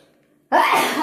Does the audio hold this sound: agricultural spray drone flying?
no